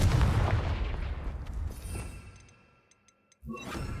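A Confringo spell explodes in the Hogwarts Legacy video game, a loud booming blast that rumbles and fades over a few seconds before another burst of crackling impact noise kicks in.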